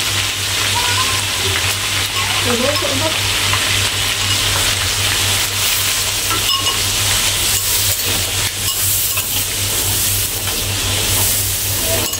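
Steady loud sizzling of blended sambal paste frying in hot oil, a continuous crackling hiss with a low hum underneath and no talking.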